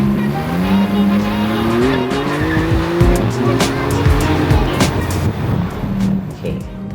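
A Maserati MC20 sports car's engine and exhaust drone steadily from close by, the pitch rising and falling as the revs shift, with scattered clicks and knocks over the top.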